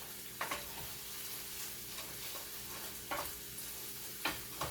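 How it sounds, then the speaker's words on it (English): Constant sizzling of vegetables frying in a pan, with a few soft scraping stirs breaking through the hiss; no talking. "the vegetables are frying real nicely"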